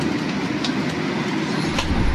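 Interior rumble of a moving economy-class passenger train, the New Generation Jaka Tingkir service between Jakarta and Jogja, with rain outside: a steady, loud low-frequency roar from wheels and car body throughout, with faint brief clatters and no talk.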